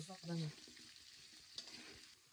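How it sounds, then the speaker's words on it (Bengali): Potatoes and eggs frying in oil produce a soft, quiet sizzle with faint stirring clatter, after a short burst of voice at the start. "তেলের মধ্যে দিয়ে দিব আলু আর ডিম ভাজার জন্য"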